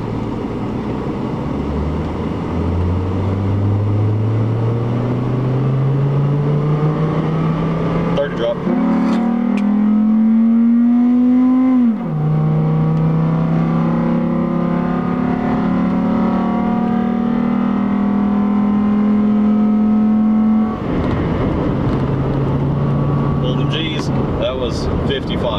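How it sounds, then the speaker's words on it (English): A Chevy inline five-cylinder truck engine cranks, catches and revs, its pitch rising and falling through several strong rev sweeps before settling to a steady idle, loud and close with no talking over it. "Chevy somehow made an engine that sounds like a Viper."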